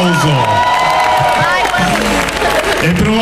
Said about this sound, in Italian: Altro applauso!